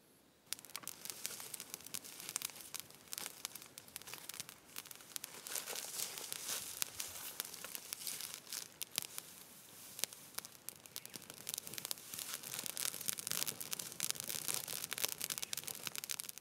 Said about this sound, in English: I'm going to go and open up country with fire.